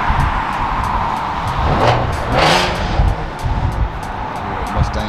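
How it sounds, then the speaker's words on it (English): A Ford Mustang pulls away at a car meet, its engine revving loudly and rising as it accelerates off, close by amid the crowd's background noise. "Mustang leaving out."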